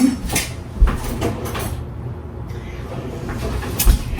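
Kitchen sounds of fetching a clean spoon: a drawer slides, dull knocks land near the start and end, and faint clinks of cutlery come from close by, with no talking.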